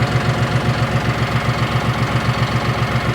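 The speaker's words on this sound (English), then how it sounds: "The tractor is warming up." A John Deere tractor engine idles steadily while warming up in cold weather, a loud, close, even low chugging pulse with no voices.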